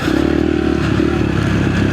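A mini bike engine buzzes steadily and close as it is ridden around a track, with a rough, rattling drone and no talking over it.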